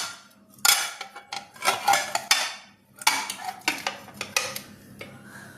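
Sticky wheat halwa is scraped and pushed from a pan into a dish with metal utensils, giving a string of close, irregular scrapes, clinks and knocks with short pauses between them.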